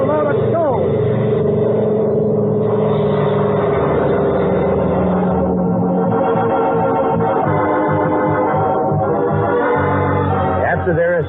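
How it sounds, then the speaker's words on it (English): Two engines of a small plane, the Yankee Doodle, starting up together as a 1947 radio drama sound effect: a loud, continuous motor drone with rumbling, revving harmonics that holds for the whole stretch. "We got to start both engines at once."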